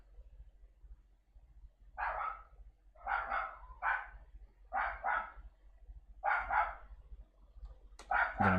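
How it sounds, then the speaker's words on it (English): A dog barks repeatedly in the background indoors, six or so separate bark bursts spaced about a second apart, moderately loud with no talking over them. "And the dog's really barking."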